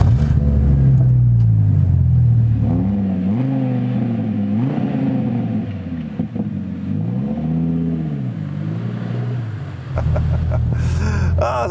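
An Audi five-cylinder car engine revs up and down through several gear changes, close and loud, with a warbling pitch that rises and falls.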